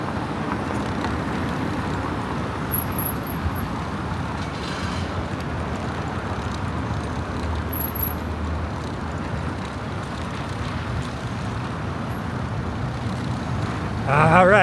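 Steady, broad traffic roar surrounds a cyclist riding along a highway in Kuala Lumpur, with constant low rumble of passing vehicles, faint wind buffeting and a brief high tone near the end.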